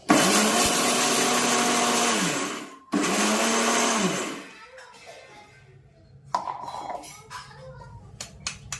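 A kitchen mixer grinder whirs loudly in two close bursts, grinding ingredients for homemade laddoos, first for about three seconds and then a shorter run, before falling quiet except for light clinks.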